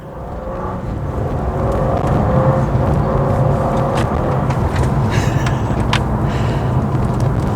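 A BMW M2 pulls away hard from a standstill, its engine note rising into a loud, sustained roar with tyre noise that holds steady for several seconds.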